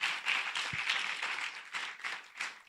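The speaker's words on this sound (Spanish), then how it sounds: "aplauda" A church congregation claps together during a worship service, a dense steady patter of many hands that swells and dips in waves for a few seconds.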